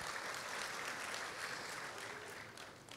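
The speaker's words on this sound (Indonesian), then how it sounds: "Beri tepuk tangan buat Tuhan kita." A church congregation applauds during an evangelist's sermon, producing a soft, steady patter of many hands that runs evenly for a few seconds and eases slightly at the end.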